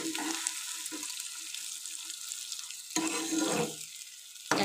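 Lau pata (bottle gourd leaf) paste sizzles and fries in oil while being stirred, a close, steady crackle broken by scraping stirs and louder bursts as the paste is turned.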